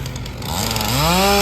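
A chainsaw cutting up fallen trees in fields, its engine loud and close, revving up from a rough idle into a rising, steady high whine.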